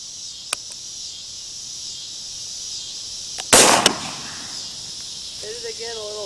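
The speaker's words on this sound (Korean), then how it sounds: "자, 이제 저 차량의 운전석, 그러니까 운전자 머리를 겨누고 한번 쏴 보겠습니다" 5.56mm rifle fired at a scrap car, heard as a faint crack early on and one loud, sharp report midway, with a steady insect-like hiss in the background and a brief voice near the end.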